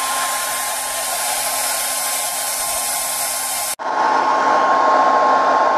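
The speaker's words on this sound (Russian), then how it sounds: "берем фен и начинаем нагревать нашу этикетку с ведром" A hair dryer blows loudly and continuously, heating a label on a bucket, with a brief dip in its whine partway through before it roars on at a slightly shifted pitch.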